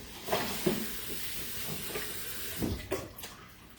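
Cheese sauce for mac and cheese simmers in a cast iron skillet, a soft steady bubbling hiss up close with a few louder pops and stirring knocks.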